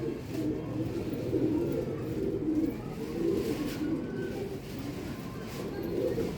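Ferozpuri pigeons, including a red-eyed female, coo in a continuous low, throaty rumble that swells and fades in steady waves nearby.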